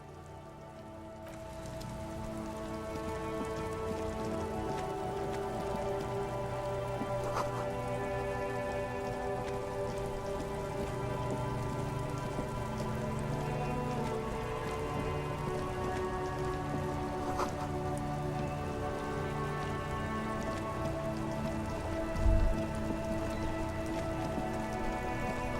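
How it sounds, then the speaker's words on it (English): Steady rain falling across the streets of Revachol in the game Disco Elysium, a continuous hiss of drops spattering on surfaces over a low ambient drone, with one brief thump near the end. "All around you, rain falls on the great city of Revachol."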